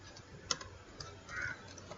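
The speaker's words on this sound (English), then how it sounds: "I'm doing Control Enter from the keyboard so that query can be executed" Faint, sparse clicks from typing on a computer keyboard, including a sharper tap early on, against a quiet room background with no speech.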